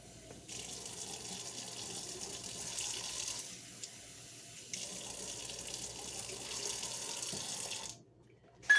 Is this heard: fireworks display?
no